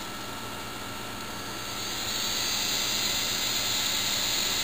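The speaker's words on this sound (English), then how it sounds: "here's the Velineon motor with the heat sink and a Novak fan modification" A Velineon brushless motor on an RC truck with a heat sink and Novak cooling fan runs, producing a steady high whirring hiss that swells louder partway through and then holds.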